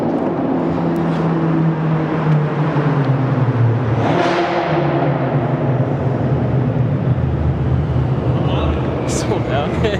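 A BMW M5 F10 with straight pipes, new downpipes and a tune driving through a tunnel, a loud, continuous raspy exhaust drone that echoes and rises in pitch under acceleration, close and dominant throughout.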